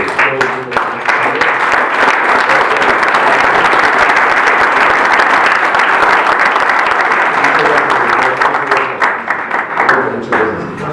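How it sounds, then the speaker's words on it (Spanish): Sustained applause from an audience at a gathering of local artists in Iztapalapa, loud and dense, rising quickly and holding steady before thinning slightly near the end, with a voice faintly underneath. "les pediría que se pusieran de pie para que les pudiéramos dar un aplauso"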